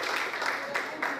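Guests at a quinceañera in Miami give Wendy a short burst of steady applause, dense mid-level clapping that continues without a break.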